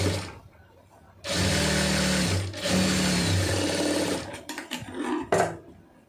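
A sewing machine stitches a folded fabric hem in two close, loud, steady runs. A few short clicks and stops of the machine follow, heard close up.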